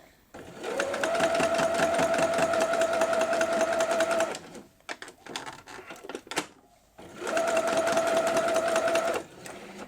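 Sewing machine running a quilt block seam for an Ohio Star block, two sustained whirring bursts of about four seconds each, with quiet clicks and handling noises in the pause between.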